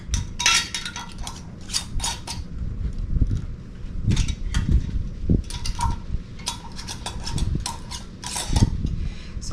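Metal lids being screwed by hand onto glass canning jars for bread and butter pickles, just fingertip tight, give repeated bursts of gritty scraping and clinking in an irregular rhythm, close and fairly loud.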